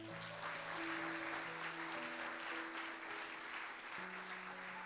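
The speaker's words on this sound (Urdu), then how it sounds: "کلام کے لیے تالیاں بجا دیں" Applause from a church congregation at a Sunday sermon, a steady wash of clapping throughout, with sustained tonal music or keyboard notes playing underneath.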